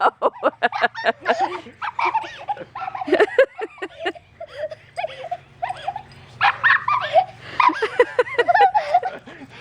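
A small puppy yips, whimpers and makes short high barks over and over, with people talking close by throughout.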